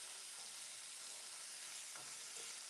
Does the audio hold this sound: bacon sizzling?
yes